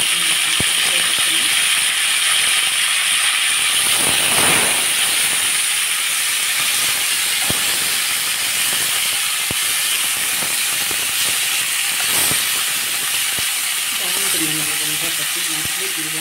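Tomato sizzling in hot oil in a pan for a Telugu vankaya pachadi, a steady loud hiss with occasional crackles and clicks, no talking.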